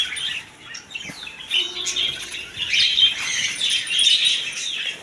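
Budgerigars and other caged birds in a market bird shop squawk and chirp loudly, with overlapping shrill calls and brief wing flutters in a busy, continuous chorus.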